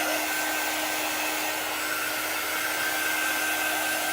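A heat tool blows steadily to dry chalk paste on a craft piece, a constant close whooshing hum with a faint whine, alone and unbroken.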